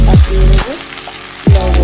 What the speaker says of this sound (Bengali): আলুটা হালকা করে ভেজে নিয়েছি। এবার কাঁচা টমেটোটা দিয়ে দেবো